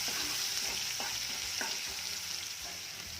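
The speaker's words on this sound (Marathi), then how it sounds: "बारीक चिरलेला कांदा कांदा देखील छान परतून घ्यायचा आहे" Finely chopped onion frying in a pan for a dhaba-style dal fry, a steady close sizzle with a few light stirring scrapes, no voices.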